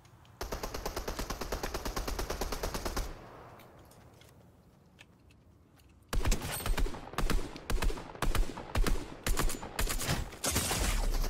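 Rapid automatic gunfire from a Fortnite match cracks out in a sustained burst, pauses briefly, then returns as a series of loud, choppy bursts with a few single shots.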